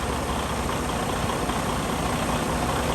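The diesel engine of a 2019 Freightliner Cascadia truck idles with a steady, dense low rumble close by, unbroken for the whole stretch and with no voices.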